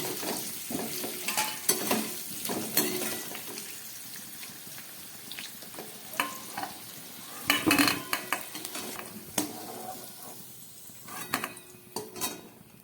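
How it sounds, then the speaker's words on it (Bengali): Fried taro and potatoes are lifted from a pan of hot oil, with scattered clinks and scrapes of a utensil against the pan over a low sizzle, close and fairly quiet, with no voices. "কচু আলুটা আমার ভাজা হয়ে গেছে, এবার আমি এটাকে নামিয়ে নেব।"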